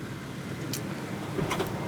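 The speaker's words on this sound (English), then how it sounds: "So I'll go ahead and give you guys a little test drive now." A Toyota Sienna ramp van with a BraunAbility automatic side-entry conversion drives along with a steady low engine and road rumble heard from inside the cabin, broken by a couple of faint rattles.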